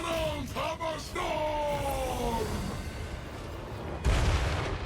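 Cannon fire from artillery in a Total War Warhammer 3 battle booms through a dense wash of battle noise, with shouting and bellowing voices, and a heavy blast hits hard near the end.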